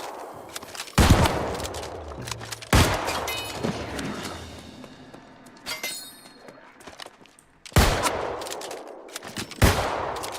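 A boomstick firing in the New World game: four loud, sharp shots spaced a few seconds apart, each with a ringing, crackling tail, plus softer clinks and rattles between them.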